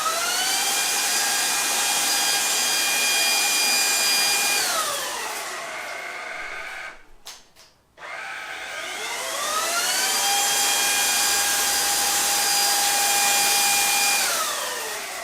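A Proscenic P9 cordless stick vacuum runs at maximum power with its softest brush, a loud steady whine that winds down, cuts out briefly, then spins back up and holds.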